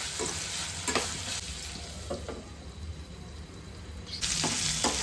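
A spoon scrapes and stirs curry in a pan in a few distinct strokes, with a soft sizzle underneath and a brighter burst of sizzling near the end, heard close with no talking.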